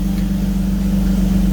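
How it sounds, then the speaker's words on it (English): A BMW E46 with an M52TU six-cylinder engine idles cold after a throttle cable adjustment, a steady low rumbling hum with an even, unbroken drone and no revving. "we're just looking for a smooth idle"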